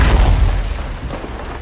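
Bomb blast in an Indonesian-narrated war film about humans versus A.I., a heavy, deep boom that hits loud at once and rolls off into a fading rumble over about a second and a half.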